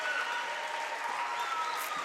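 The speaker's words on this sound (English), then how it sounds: "You see Jeff Seitz out there in the front leading the cheer" Crowd cheering and applause fill a high school boys basketball gym, a steady, dense roar of clapping and voices holding at an even level throughout.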